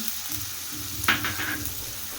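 Carrots and capsicum fry in a pan with a steady hiss. A brief, louder sizzle and stir in the middle, and no talking.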